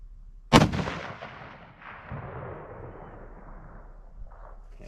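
A single loud 6.5 rifle shot fired during deer season cracks sharply near the start, then rolls into a long, fading echo that carries across open ground for several seconds.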